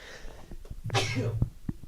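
A single sneeze bursting out sharply amid quiet background talk, close and brief.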